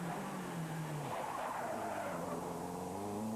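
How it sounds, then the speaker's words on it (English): A rally car skids on tarmac at the Manx National Rally, its tyres squealing loudly and close while the engine note rises and falls, a continuous screech that holds for the whole moment. "The number 8 car, then, of Steve Fleck, another tarmac expert."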